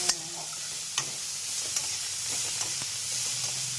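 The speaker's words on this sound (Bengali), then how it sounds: "এখন পেঁয়াজ রসুন দিয়ে দিলাম" Sliced onion and garlic sizzle over full flame in a pan with prawn heads, a steady close frying hiss broken by a few sharp ticks and spatula taps.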